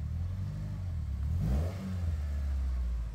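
A used Honda Accord's engine gives a single quick rev, climbing in pitch and then settling back to a steady, close idle.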